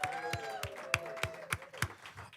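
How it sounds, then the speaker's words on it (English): A small in-person audience at a forum's opening ceremony gives the People's Forum a thin round of applause: a handful of sharp, separate handclaps at a steady pace, faint and sparse, over a soft tonal background. "let's give a round of applause to the People's Forum"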